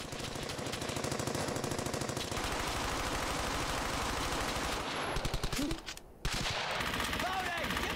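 Gunfire in the WWII shooter Brothers in Arms: Hell's Highway, with rapid, sustained automatic bursts and rattling shots filling most of the clip and a brief drop near the end.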